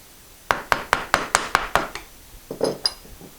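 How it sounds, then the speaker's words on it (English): A chisel strikes into the scored line of a wooden dovetail joint: eight sharp, evenly spaced taps in a steady rhythm, then a short pause and a few softer, scraping cuts, close and clear with no talk. "put the chisel right in the line as a last step"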